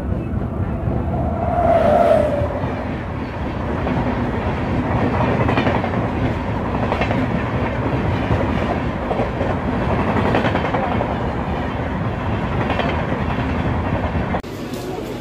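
An Antyodaya Superfast Express train running near Chirala station, producing a loud continuous rumble with rhythmic clickety-clack of wheels and a brief horn-like tone early on, voices faintly present in the background.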